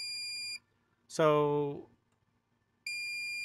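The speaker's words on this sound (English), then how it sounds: "it'll start beeping, and it does 10 beeps like this" A steady electronic beep tone from a faulty MaxxAir roof vent fan, then a short spoken word, then the beeping resumes; the tone is bright and piercing, close by.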